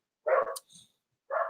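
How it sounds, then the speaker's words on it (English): Pet dogs barking indoors at someone at the door, a couple of sharp nearby barks with a short yip between them, separated by silence. "my dogs are barking"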